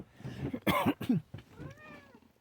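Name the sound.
cat meowing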